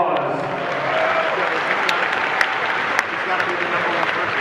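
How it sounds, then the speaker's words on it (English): A large crowd applauds at a big Yu-Gi-Oh tournament hall, a dense and steady wash of clapping with a few sharper individual claps standing out, lasting throughout. "Let's give him a round of applause."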